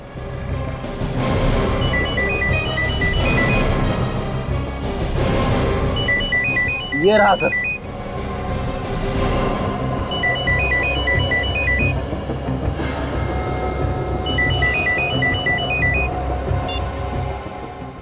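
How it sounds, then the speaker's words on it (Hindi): A phone ringtone trills in repeated electronic bursts throughout, under ongoing Hindi conversation, with a brief rising sweep midway and voices speaking over it. "सर फोन की घंटी तो बज रही है मगर फोन कहीं दिख नहीं रहा है"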